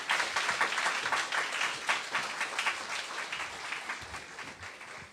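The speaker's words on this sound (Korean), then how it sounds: "우리 손철우 교수님 나오실 때 우리 격하게 환영의 박수로 맞아주시면 감사하겠습니다." Audience applause at a church youth gathering welcoming a guest professor, a steady, fairly close crowd clapping that holds for several seconds and tapers slightly at the end.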